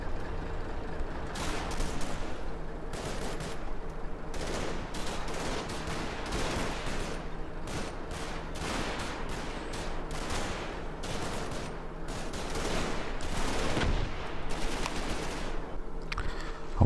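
Gunfire in the wartime tactical game Combat Mission Market Garden, with dense, continuous bursts of rapid shooting and heavy machine-gun fire, close and loud throughout, with no talking.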